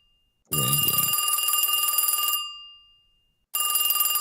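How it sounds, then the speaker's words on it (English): Old-school telephone ringing, a bright metallic bell trill that rings for about two seconds, fades, then starts again after a short pause, with a brief low thump at the start. "Can you hear the ringing?"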